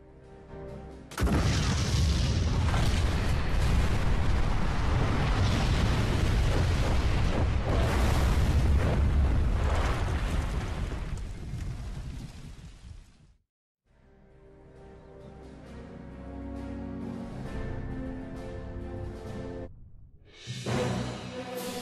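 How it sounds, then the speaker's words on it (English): Rockets are blown up in the R.U.S.E. strategy game: a loud, dense explosive roar erupts and rumbles for about twelve seconds, then cuts out to quieter layered tones before a final burst. "Tell them to blow those rockets."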